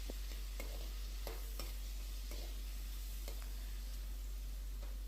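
Spices and turmeric frying in oil make a faint, steady crackle with occasional sharp pops and stir clicks, all over a constant low electrical hum.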